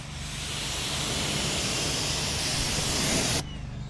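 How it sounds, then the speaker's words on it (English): A steady, loud hiss of tire cleaner being sprayed onto a tire close up, lasting a few seconds before cutting off abruptly. "Spray onto the tire."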